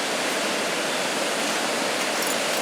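Roaring waterfall on flooded Nottawa Creek, a dense, steady wash of rushing water heard close up and loud, unbroken throughout with no voices.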